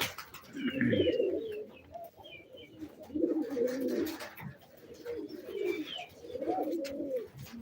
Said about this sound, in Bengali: আমার অনেক পুরনো এক জোড়া কবুতর